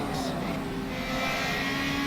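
A race car engine drones steadily in a sim racing game at Lime Rock, a sustained mid-pitched hum that rises slightly toward the end, heard alone.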